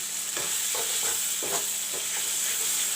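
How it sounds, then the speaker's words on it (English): Chopped tomatoes frying in oil with spices for a soya chunk and potato curry, an even sizzling hiss broken by soft rhythmic stirring strokes in the pan. "And fry the tomatoes along with the masalas."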